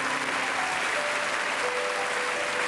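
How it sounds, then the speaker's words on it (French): A French television studio audience at a 1989 variety show breaks into sustained applause, a thick, even wash of many hands clapping without pause, with a faint held tone beneath. "sous vos applaudissements"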